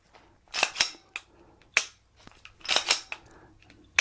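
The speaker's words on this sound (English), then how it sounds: "And then you want to check the firing." A PSA Dagger pistol being dry-fired for a function check gives a few sharp, close metallic clicks and snaps, spaced irregularly against a quiet background.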